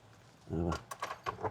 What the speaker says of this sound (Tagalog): Tapos ito yung susi niya